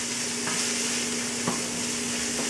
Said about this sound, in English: In the meantime that our peas, ham and onions, they start to become nice and browny